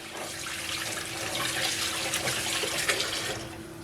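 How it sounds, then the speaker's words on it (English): Warm tap water pours steadily over hands being rinsed at a sink, a continuous close splashing hiss with slight shifts as the hands move under the stream. "Rinse them under some warm water."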